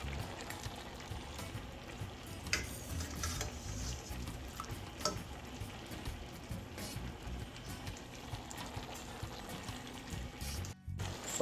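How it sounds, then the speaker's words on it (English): Pigtail being moved from one pot into a pot of Jamaican stew peas, with soft scraping, stirring and wet dribbling sounds, quiet and close, plus a few sharper clinks of utensil on pot. "I will now transfer the pigtail from this pot to the peas pot."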